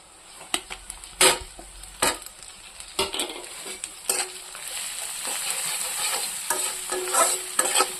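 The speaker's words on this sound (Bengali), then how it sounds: "এটা একটু ভাজবো, রসুনের গন্ধটা যাবে না ভাজা করলে।" Green chili, garlic, cumin, dried chili powder, turmeric and salt fry in oil in a pan for a dried fish curry, crackling under a continuous sizzle while a spatula scrapes and knocks against the pan at irregular intervals, with no voices.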